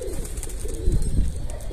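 Domestic pigeons coo steadily in a loft, a soft, low, rolling murmur that continues close by over faint background noise, with no voices.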